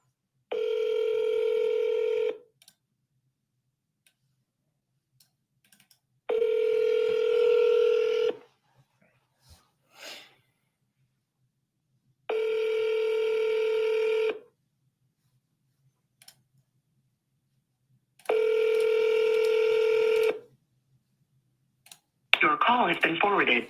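Telephone tones of an outgoing call: four evenly spaced, loud electronic tone bursts of about two seconds each, separated by long silent gaps, followed by a brief voice at the end.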